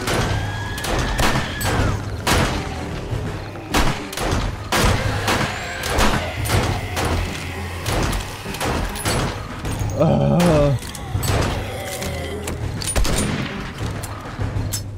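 Gunshots in the zombie survival game 7 Days to Die during a blood moon, a string of sharp, loud, spaced bangs over about fifteen seconds, with background game noise between shots.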